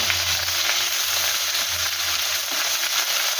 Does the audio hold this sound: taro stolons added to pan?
yes